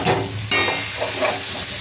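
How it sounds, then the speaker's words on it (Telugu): Tempering spices hit hot oil and sizzle loudly, a sharp hiss rising suddenly and continuing as steady close frying crackle. "ఎందుకంటే ఇది తాలింపు"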